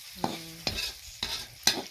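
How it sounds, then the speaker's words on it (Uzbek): Sheep tail fat sizzling in a pot while a utensil scrapes and stirs in four distinct strokes, close and moderately quiet. "Dumba qovuramiz"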